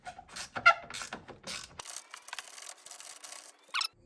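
A 12 mm socket wrench works loose the clamp bolt on a car battery in a Hyundai i10, with close metallic clicks and rubbing scrapes in short bursts, then a thinner stretch of ratcheting.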